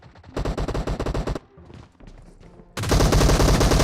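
Gunfire from the mobile game PUBG Mobile, played on a Xiaomi Mi 10T Lite: two long, loud bursts of rapid automatic shots separated by a brief pause.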